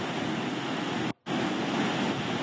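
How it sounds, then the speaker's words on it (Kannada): Floodwater of the Phalguni river near Mangaluru, swollen and overflowing its banks after heavy rain, roars in a steady broadband rush, loud and close, broken by one brief dropout midway. "ಮಂಗಳೂರಿನಲ್ಲಿ ನದಿಗಳು ಉಕ್ಕಿ ಹರಿತಾ ಇವೆ."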